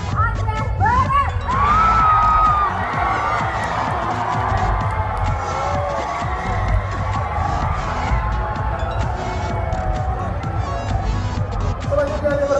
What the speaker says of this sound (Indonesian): beri tepuk tangan yang meriah untuk Inong dari Kabupaten Aceh Barat